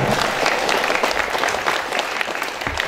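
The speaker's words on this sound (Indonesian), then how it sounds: "Nah, beri tepuk tangan lagi untuk teater Lembah Mana." An audience claps loudly and steadily for a school theatre troupe at a festival performance, with dense, continuous applause from a close crowd and no speech over it.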